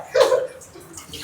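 Water pours from a cup in a short, close splash that swells quickly and then trails off into a softer trickle.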